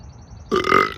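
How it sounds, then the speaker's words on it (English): A single loud, drawn-out burp starts abruptly after a moment of near silence. "about to burp"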